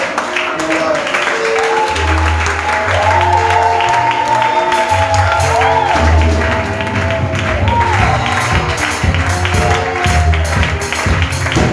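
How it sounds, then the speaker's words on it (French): A church congregation applauds and acclaims God in steady, sustained clapping and crowd noise, layered over sustained worship music with a low bass line. "Je voudrais que ce soir, tu acclames et tu donnes des actions de grâce à Dieu et que tu le bénisses"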